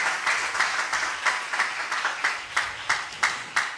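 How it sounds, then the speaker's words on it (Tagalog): Church congregation at a Jesus Miracle Crusade worship service claps in rhythmic unison, steady beats about four per second filling the hall without speech. "Yan na po ba ang pinakamasiglang palakpak natin sa dakilang Diyos"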